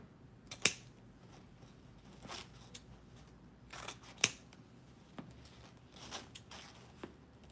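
Scissors snip angled tails on a bow ribbon, a few quiet, sharp cuts spaced irregularly with soft handling sounds between them.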